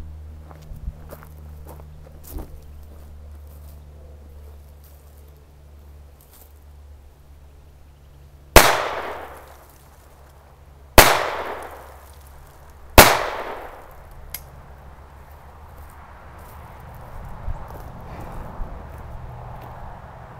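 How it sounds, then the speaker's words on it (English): Phoenix Arms HP22A .22 pistol fired three times outdoors, sharp loud cracks spaced a few seconds apart over quiet background hum, with fainter small clicks and handling noises between shots. "Let's fire a couple more rounds."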